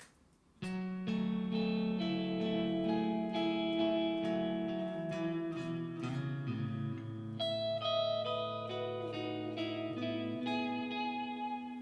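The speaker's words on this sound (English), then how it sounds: "so I have the reverb on the delay plus reverb setting." Electric guitar notes and chords played through a delay plus reverb pedal setting, ringing out with long echoing repeats and a washy reverb tail, played alone with no talking.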